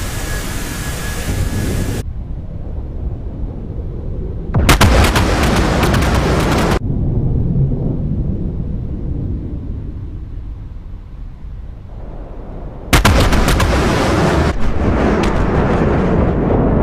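Bombs from a B-1B Lancer air strike explode in a war video game, with several loud broadband blasts separated by lingering low rumble, two bursts near the start and middle and another heavy series toward the end.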